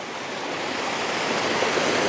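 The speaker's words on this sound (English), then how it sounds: "is called Brownie Ghyll, flowing out of Red Tarn" Brownie Ghyll, a mountain stream flowing out of Red Tarn in the Lake District, rushing water as a steady close broadband roar with no other sounds.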